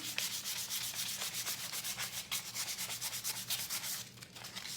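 Rapid, rhythmic scratchy strokes of sandpaper rubbing paint off wooden boards for a rustic flag craft, steady and close throughout.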